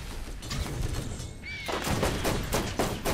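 Rapid gunfire in the Borderlands game, dense bursts of shots crackling one after another at close range, with a sharp whistling tone briefly cutting through mid-way.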